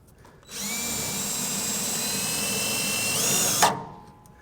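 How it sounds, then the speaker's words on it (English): A power drill whines steadily up close as it drives a self-tapping screw into the cross member of a 1996 Chevrolet truck, speeding up briefly before stopping with a small clunk. "we got a self-tapping screw. We're just going to take that right here to this little cross member"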